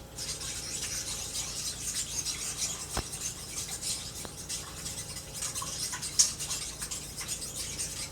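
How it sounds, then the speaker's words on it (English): Gravy for beef stroganoff being stirred in a pot, a steady soft scraping and swishing with faint clinks, close and continuous with two sharp taps partway through. "watch me stir my gravy"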